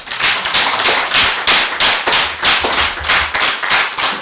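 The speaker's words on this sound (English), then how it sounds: "Why don't we give them a clap?" An audience at a hybrid mental health conference claps for the event's hosts, sharp loud claps landing in a fairly regular rhythm with no talk over them.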